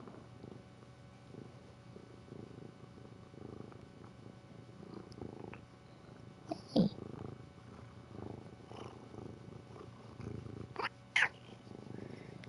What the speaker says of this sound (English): Yeah, it's my kitty.